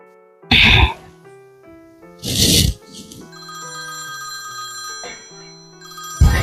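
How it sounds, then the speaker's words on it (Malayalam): A mobile phone ringtone plays a repeating electronic melody of clear stepped tones that keeps going for several seconds, with loud breathy coughs or sneezes bursting in before and during it. "നിന്റെ ഫോണാക്കണ ബെല്ലടിക്കണേ"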